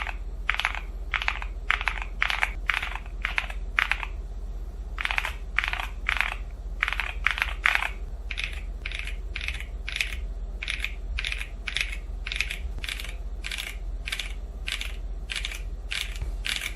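Typing on a MonsGeek M1W keyboard fitted with CS Piano and V3 Piano Pro switches: close, crisp keystrokes in quick rhythmic bursts separated by short pauses, steady and alone with no talking.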